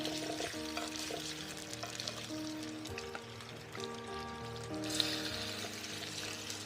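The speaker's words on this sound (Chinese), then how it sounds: "温度上来之后，来给它煎一下啊" A pork chop pan-fries in a little oil heated to moderate temperature, giving a soft continuous sizzle at low level. Faint background music tones run beneath it and no one speaks.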